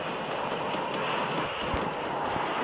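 A drone flies in the Free Fire battle game, giving off a steady, loud engine drone that holds without a break.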